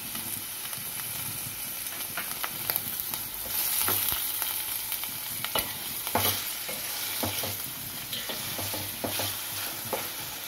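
Onions frying in a pan for a tomato cashew curry, with a steady close sizzle and hiss, repeated scraping and stirring clicks, and short bursts of louder crackle, no voices.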